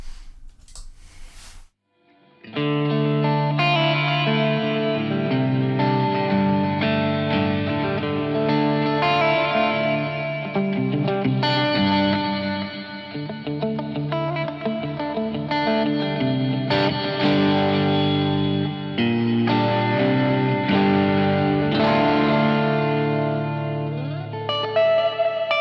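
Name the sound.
guitar with echo and reverb pedals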